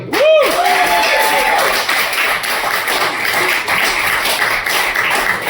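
Applause and clapping from a small café comedy audience welcoming the next comedian on stage, a steady dense patter filling the room throughout, with a brief whistle near the start.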